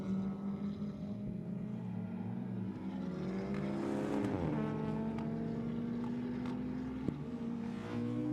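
Race cars in a Zetec Supercup race at the ICCR 2024 round three meeting, engines droning continuously at high revs and shifting pitch as they pass, loud and steady throughout with no talk.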